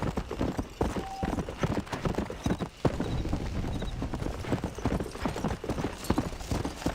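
Hooves of a galloping horse in Red Dead Redemption pound in a fast, continuous rhythm for the whole stretch, close and loud against a busy outdoor game soundscape.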